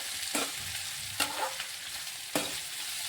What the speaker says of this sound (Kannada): ಇವಾಗ ನೋಡಿರಿ, ಚೆನ್ನಾಗಿ ಇದನ್ನು ತಿರ್ಕೊಳ್ಳೋಣ.